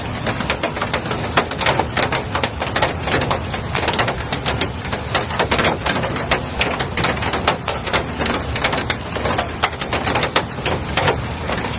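Heavy rain drums on a door in a dense, continuous patter of sharp, loud taps, steady throughout with no voices.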